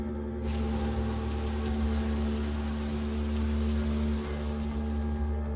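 Cartoon rain starts abruptly and then pours as a steady, even wash of falling water that carries on unbroken to the end.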